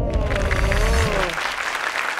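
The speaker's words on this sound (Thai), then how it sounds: "ปรบมือให้กำลังใจหน่อยครับ" Audience clapping at an awards competition rises under a host's voice and a sliding tone, then thins into softer scattered applause.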